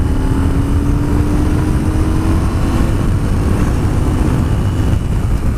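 A loud engine roars continuously at high revs, a Yamaha XV950 Racer motorcycle at full throttle with a rising whine, close and steady throughout.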